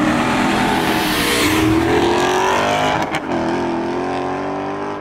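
Street racing cars, including a Challenger, accelerate hard past on a city street in St. Louis, a loud sustained engine roar rising in pitch, then fading as they pull away, with no voices.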